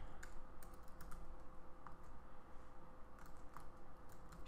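Typing on a computer keyboard while working in an Excel spreadsheet: irregular clusters of soft, nearby key clicks with short pauses between bursts, over a low steady room hum.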